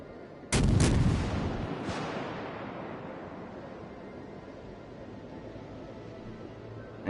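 Ship artillery in the naval game World of Warships: two or three close, loud booming shots in quick succession, then a further report, each decaying into a long rumbling tail.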